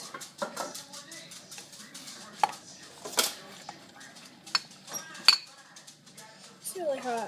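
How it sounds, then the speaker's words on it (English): A knife stirs melting candy in a bowl for cake pops, with irregular clinks and scrapes of metal against the bowl and a few sharp taps, close and fairly quiet, alongside someone speaking. "So I'm just going to use this knife and stir it here."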